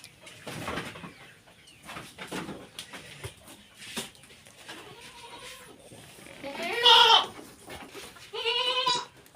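A one-month-old goat kid bleats twice near the end, loud and close, with quavering cries after scattered softer farmyard noises.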